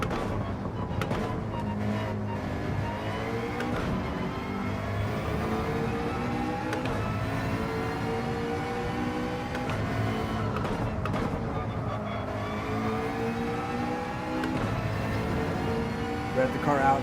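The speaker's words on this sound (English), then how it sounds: "Rev the car out, trying to burn up as much fuel as we can" A GR.3 race car engine revving in a racing game, a continuous droning whine that rises and falls in pitch over many seconds, steady and moderately loud, with someone talking over it.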